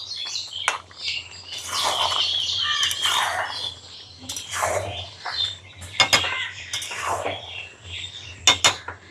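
A spoon clatters and scrapes in a cooking pot as chicken, potatoes and whole garlic cloves are stirred for chicken kosha, with irregular close clanks and birds chirping in the background.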